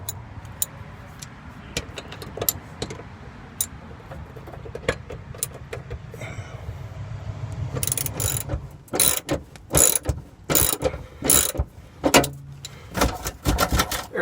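Hand ratchet loosening a fuel tank strap bolt underneath a Dodge Neon, its pawl clicking in quick bursts that grow louder and sharper toward the end, close by with no talk.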